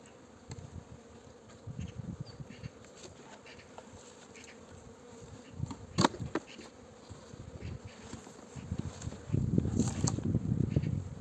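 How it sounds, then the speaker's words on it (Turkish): A swarm of honeybees buzzing close by at their hive entrance in early spring, a continuous droning hum that swells louder toward the end, with occasional rustles. "bütün arılar uçup kovana geri girecektir"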